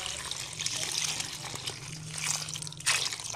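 Water pours steadily into a cooking pot, a continuous trickling splash with a brief stronger gush near the end, close and moderately quiet with no talk.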